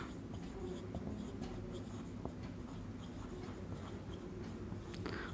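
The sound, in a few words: writing coordinates during a maths lesson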